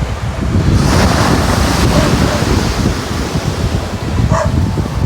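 Loud, crashing ocean waves surge continuously with heavy wind buffeting the microphone, a steady roar of surf close by.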